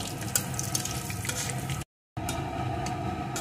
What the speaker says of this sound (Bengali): এখন এই তেলের ভিতরে আমি ফোড়নে দিয়ে দেব কিছুটা গোটা জিরে, একটা শুকনো লঙ্কা। ফোড়নটা সুন্দর করে ভেজে নেব।